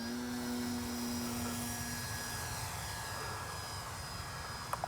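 A Dynam DHC Beaver V2 RC airplane flies overhead with a steady electric motor whine and broad rushing drone, holding level throughout, with no talk.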